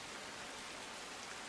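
Heavy rain falls steadily over Surat, a dense, even hiss with no gaps and no voices.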